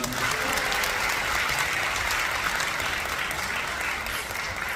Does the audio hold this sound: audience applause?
yes